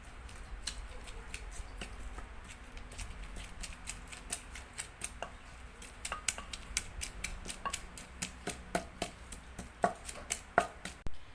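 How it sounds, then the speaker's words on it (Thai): Chilies and makhuea being pounded in a mortar for a Lao dish, a steady run of sharp, close knocks that grow louder and more forceful toward the end, with no talking. "ก็มาตำพริกกันเลยเนาะพี่น้องตำมะเพ็ดกันเลยเนาะ"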